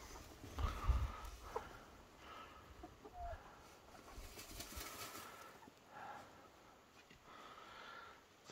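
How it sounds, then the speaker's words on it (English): Backyard chickens taking a dust bath in a covered run make quiet, scattered clucks and soft scratching and fluttering sounds, faint and intermittent against a low background. "got a couple chickens down here taking a dust bath."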